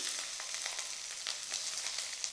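Capsicum sizzling in a little hot oil over high heat in a kadhai, a bright, continuous frying crackle heard close and alone.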